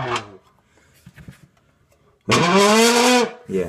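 An opened soda can worked to imitate a car, giving a loud, buzzing engine-like whine that rises and falls for about a second after a brief spoken word and near silence.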